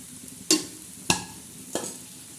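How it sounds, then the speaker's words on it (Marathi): Chopped onion is sautéed in a pan for spicy egg bhurji: three separate scraping stirs of a spatula sound close up over a faint background sizzle. "मस्त परतवायचा कांदा"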